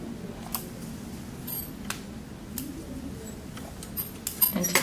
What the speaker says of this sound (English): And you want to trim your threads.